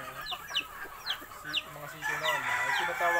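Young stag chickens from a breeding flock cluck and chirp together at close range in a busy, continuous chorus of overlapping calls.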